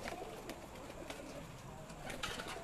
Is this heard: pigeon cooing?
yes